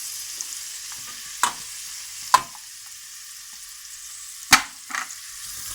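Onion frying in a pan and being stirred, a quiet steady sizzle broken by a few sharp scraping stirs and clinks of the utensil against the pan, close by with no voices.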